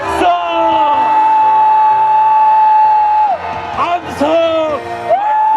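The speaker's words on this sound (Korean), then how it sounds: "함성 발사!" A crowd at a national emergency prayer rally against a presidential impeachment lets out a long, sustained collective yell. It holds steady and loud for several seconds, then breaks into shorter whoops and shouts.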